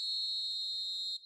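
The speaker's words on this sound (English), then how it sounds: "There's the whistle for half-time." A referee's half-time whistle in a football video game sounds as one long, steady, shrill blast that stays loud and even before cutting off abruptly.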